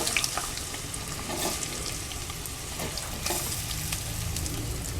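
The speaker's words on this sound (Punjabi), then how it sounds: "ਇਹ ਆਪਾਂ ਪਾਤਾ ਜੀਰਾ ਤੇ ਨਾਲ ਹੀ ਆਪਾਂ ਪਾ ਦਾਂਗੇ ਆਲੂ" Potatoes and cumin frying in a pan give off a continuous close sizzle with faint stirring scrapes, heard alone without talk.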